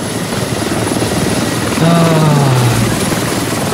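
A helicopter in a squad-based multiplayer video game gives off a steady rotor drone that swells louder partway through, with an engine whine sliding downward; players' voices come and go over it.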